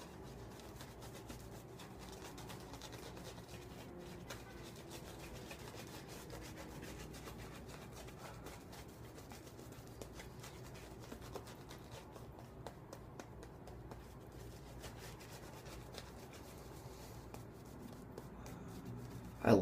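A double edge razor makes a shaving pass against the grain, giving a faint, steady scratchy rasp of blade over whiskers that continues softly throughout, with no talking.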